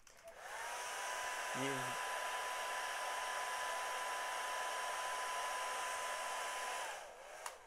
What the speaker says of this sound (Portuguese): eu vou ligar esse secador aqui.